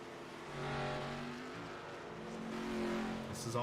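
Stock cars in an Xfinity Series race at Indy in a racing simulator roll down pit road, their engines droning steadily and swelling and easing as they pass, moderately loud, with faint commentary underneath.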